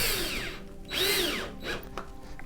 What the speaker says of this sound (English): And now I'll just screw them into the frame.